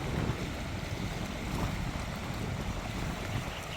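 Fast-flowing river water churned into waves by steady wind, a continuous broadband rush with wind buffeting the microphone, loud and close throughout, no talking.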